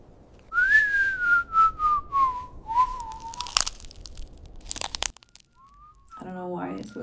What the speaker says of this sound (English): I don't know why it's whistling.